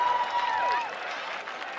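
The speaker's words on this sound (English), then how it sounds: "let's give a big round of applause to Jimmy Johns for coming with 500 sandwiches" A large crowd at a high school pep rally applauds in a dense, continuous wash of clapping, loud and steady with some cheering mixed in.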